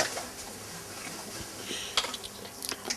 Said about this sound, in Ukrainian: Я допомагаю мамі мити посуду